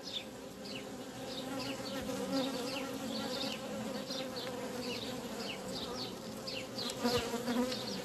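Honeybees buzz densely inside a hive around their queen, a close, continuous droning hum with small fluctuating whines, steady and moderately loud with no talk.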